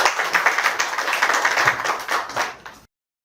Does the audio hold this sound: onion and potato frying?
no